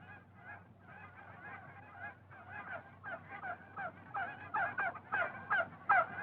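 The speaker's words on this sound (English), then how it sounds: "And there were geese." Geese honk repeatedly in a wild outdoor setting, a flock calling in overlapping bursts that grow louder and closer toward the end over a low steady background hum.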